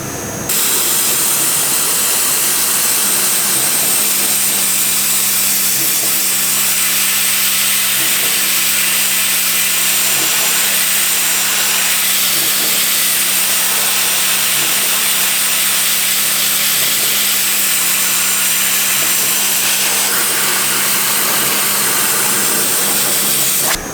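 Steady, loud, roaring hiss of a dry ice blaster working over the brake lines of a Mercedes 380 SL, continuous and close with no pauses.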